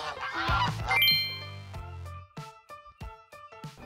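A flock of domestic geese on the KAIST campus honks loudly in a burst of overlapping calls. Quieter scattered ringing, tinkling tones follow in the background.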